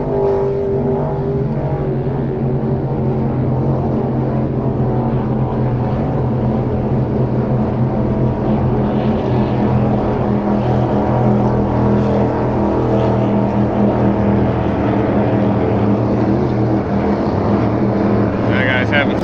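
Boat engine drone heard from on board during a run out to the Key West boat races, steady and loud throughout with wind and water rush, though no clear misfire stands out.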